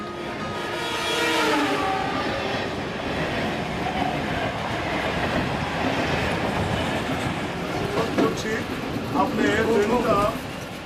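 A train crosses the Harding Bridge in Bangladesh with a continuous loud rumble and rhythmic wheel clatter, and voices can be heard over the rolling noise.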